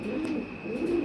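Pigeons coo on a farm, low soft throaty coos rising and falling in two nearby phrases over a faint steady hum.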